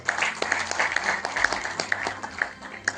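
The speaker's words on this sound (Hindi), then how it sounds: "तो उनके लिए जोरदार तालियां" Clapping from an audience at a foundation's annual poetry event, moderate and steady with distinct individual claps over a few seconds, some background murmur.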